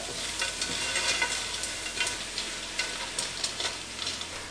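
Frozen vegetables frying in a pan as they defrost and heat through, with a continuous crackling sizzle and frequent small pops and spits at moderate loudness.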